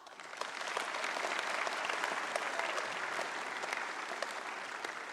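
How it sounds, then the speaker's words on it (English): Audience applause at a James Cook University graduation ceremony in Brisbane, a large crowd's steady, even clapping that swells early and stays full before easing slightly toward the end. "Give them a big clap."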